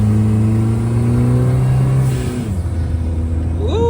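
Daihatsu Mira small car engine runs with a steady droning tone, then the pitch shifts as revs change, ending with a quick rising rev, close and loud.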